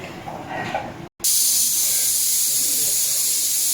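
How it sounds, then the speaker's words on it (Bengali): Pressure cooker whistle in a home kitchen: a soft bubbling hiss, a brief gap, then a loud, steady, sustained high-pitched whistle that holds to the end. "প্রেসার কুকার খুব সুন্দর করে সিটি মারতেছে"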